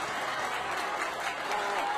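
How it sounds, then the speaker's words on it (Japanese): Supporters of Niigata Meikun in a high school football final stands applaud steadily against Teikyo Nagaoka, a broad wash of clapping and crowd noise running under a commentator's voice. "明訓応援席は大きな拍手"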